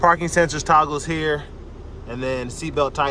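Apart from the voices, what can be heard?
No everyday noises stand out.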